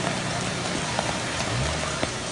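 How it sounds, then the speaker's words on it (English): Heavy rain pours onto a flooded city street in a dense, constant hiss, with occasional louder drops and splashes standing out close by. "the heavy rain continues to hit one of the more prone spots in the street"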